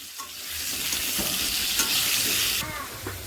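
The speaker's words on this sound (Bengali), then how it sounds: "এবার একটু হলুদ, একটু নুন ভালো করে মিশিয়ে নেব আর একটু লাল লাল করে ভেজে নেব" Food frying in oil with turmeric and salt gives a bright, steady sizzle, with close scraping stirs throughout, loud and continuous with no voices.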